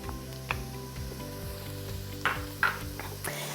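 Chopped garlic, about four or five cloves, sizzles with onions in a deep pot for mussels in white wine, a steady close frying hiss with a few sharp pops and stirring clinks over low background music.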